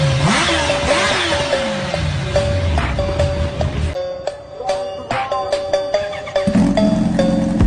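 Kawasaki Ninja H2R and H2 motorcycle exhausts revving in turn, rising and falling engine whines and sharp throttle blips, loud and close, alongside music with a repeating tonal beat.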